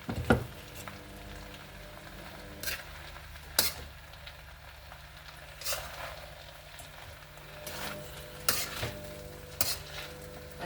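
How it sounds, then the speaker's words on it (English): Veggies and rice frying for Nigerian fried rice, a steady sizzle broken by several sharp scrapes and clanks of stirring, close and alone with no talk. "Go in with some veggies again and rice"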